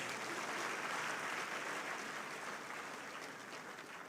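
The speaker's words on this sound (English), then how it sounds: "give yourselves a very big round of applause" Audience applause at the opening ceremony of the Nigerian Society of Engineers conference in Ibadan, a steady wash of many hands clapping that holds evenly throughout, heard from a distance at moderate volume.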